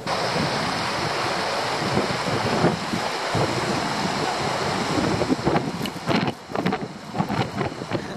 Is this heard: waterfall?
yes